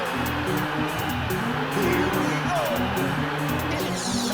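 Race car engines in the Ridge Racer Type 4 video game roar loud and constant, with pulsing gear changes and brief tire squeal, while a person talks over them.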